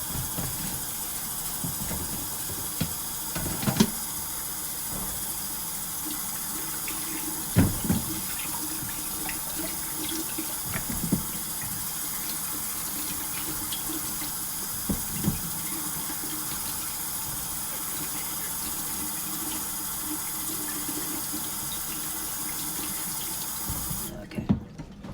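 Tap water runs steadily into a sink while celery stalks are washed for an Easter ham dish, a constant close splashing rush broken by a few sharp knocks and clatters.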